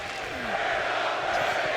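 A virtual arena crowd in the WWE 2K25 wrestling game roars and cheers steadily, a dense continuous wash of noise, while a commentator speaks over it.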